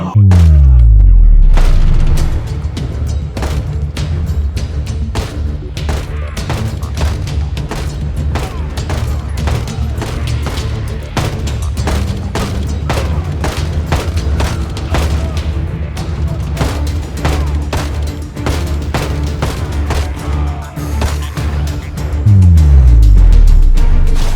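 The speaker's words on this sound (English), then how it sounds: "he heard a different gunshot from his own rifle" Rapid gunfire cracks repeatedly and loudly for a long stretch in Project Zomboid, with deep booms at the start and the end.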